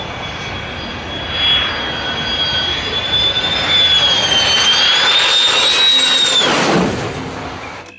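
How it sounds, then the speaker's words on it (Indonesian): Fighter jet engine roaring loudly and steadily, with a rising whine and a swelling rush near the end as the aircraft passes close. "yang ini ada pesawat tempur teman-teman"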